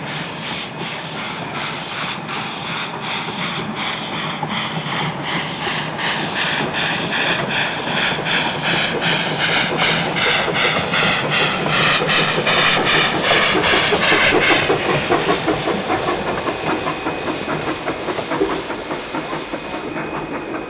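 The Puffing Billy steam train crosses the Monbolt Creek Trestle Bridge, built in 1899, on a heritage line in the hills. Close, loud hiss and chuffing sit under a rapid, regular clickety-clack of wheels that builds, then eases near the end.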